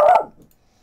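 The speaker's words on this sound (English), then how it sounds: "Dog." A single short dog bark from Castlevania: Symphony of the Night, loud at first and quickly decaying into silence.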